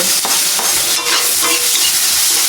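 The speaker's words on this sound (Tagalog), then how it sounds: "Bigisa ko lang po ng konti yung luya." Ginger, tomato, onion and garlic sautéing in a small pan, a loud continuous sizzle close up with scraping stir strokes throughout and no voices.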